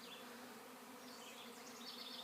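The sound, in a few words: honeybees flying around a swarm trap on a truck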